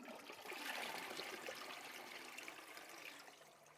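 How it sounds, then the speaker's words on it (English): A toilet cistern is flushed and emptied during a Fluidmaster Easy Fit Ultra syphon installation, a sustained rushing gush of water that slowly tapers off, close and alone with no talk. "we need to flush and empty the cistern"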